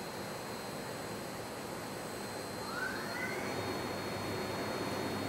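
Machine spindle fitted with a Hainbuch chuck spinning up to 2,000 RPM, a steady broadband whir with a faint tone rising in pitch partway through, constant and fairly quiet.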